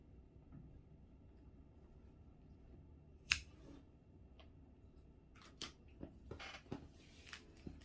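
Scissors snip through macrame cord while making a hanging plant holder, one sharp close cut followed by a few softer snips and handling sounds against a quiet background.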